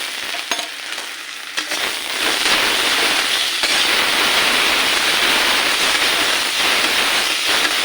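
Garlic, green chili and white spice pastes sizzle and fry in hot oil with browned onions, a steady, loud, close crackle running throughout with occasional stirring, no voices.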